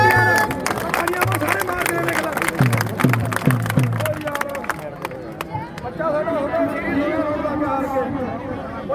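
Audience clapping at a Mission Fit Punjab event in Pinka Jarag, Bahgiwander: a dense run of hand claps over the first five seconds under a loud voice and crowd chatter, then fading into ongoing talk.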